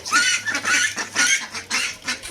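Several ducks quack in bursts, loud and close, a noisy overlapping chorus with short pauses between calls.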